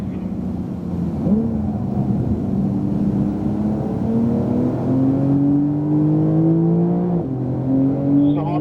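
Porsche 911 Turbo S accelerating out of a corner on a racetrack, its engine note climbing steadily in pitch through the gears, loud and close, with a brief shift break near the end.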